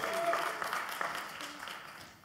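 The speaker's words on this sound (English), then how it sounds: "So I ask you to cheer a little bit." A conference audience claps and cheers in a brief burst that fades out, with a presenter's voice mixed in over the applause.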